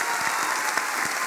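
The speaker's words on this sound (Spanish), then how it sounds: "Un aplauso para Emanuel" A cabaret audience in Puerto Vallarta applauds a performer, a brief, dense and even burst of clapping filling the room.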